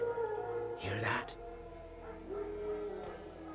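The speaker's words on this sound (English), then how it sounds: "Wild dogs." Wild dogs howling in The Witcher 3, a short rising howl bursting over low game ambience while a voice talks throughout.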